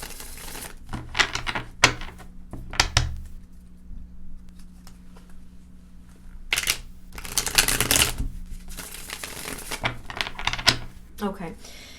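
Cards are shuffled in several bursts of rapid riffling and flapping, close up, with pauses and soft handling noises between.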